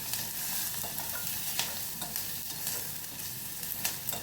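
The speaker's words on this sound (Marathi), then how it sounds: "आणि हे छान परतून घ्यायचं" Tomato, onion, garlic and turmeric with chilli powder sautéing in a pan for vegetable pulao, a dense continuous sizzle with clicks and scrapes from stirring, close up and without voices.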